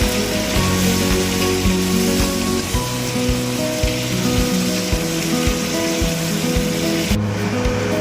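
Onions frying in a pan, a loud dense sizzle like heavy rain running the whole time, with a low tonal hum underneath and no talk.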